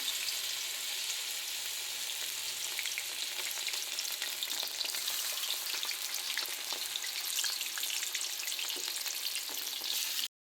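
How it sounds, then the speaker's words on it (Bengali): Batter-coated flower fritters fry in hot oil, giving an even, dense sizzle with fine crackles that continues unbroken before cutting off abruptly at the end. "গরম গরম বড়া ভাজা হচ্ছে এখানে"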